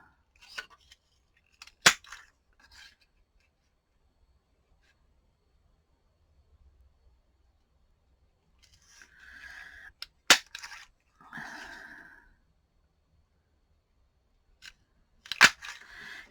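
Scissors snip through a manila file folder to cut out circles: a few sharp, isolated cuts spaced seconds apart, close and fairly quiet, with faint rustling between them.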